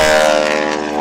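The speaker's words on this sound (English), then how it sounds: "the sound of a T6 prop tips breaking the sound barrier" A T6 propeller airplane roars past at an airshow, its loud buzzing engine tone with strong harmonic bands sweeping close by and fading slightly toward the end, with no talk over it.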